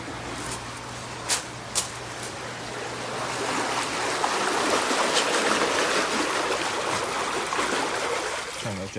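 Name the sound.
Aspen Spas Pinnacle ES hot tub water jets running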